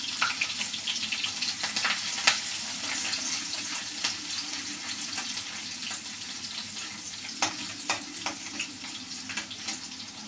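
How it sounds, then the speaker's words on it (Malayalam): Garlic, ginger and green chili frying in hot oil after mustard seeds have popped, a steady close sizzle with occasional sharp crackles and stirring clicks, no speech. "കടുക് പൊട്ടിയിട്ടുണ്ട്. വെളുത്തുള്ളി, ഇഞ്ചി, പച്ചമുളക് ഇട്ട് കൊടുക്കാം."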